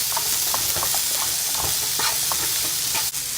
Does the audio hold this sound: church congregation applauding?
no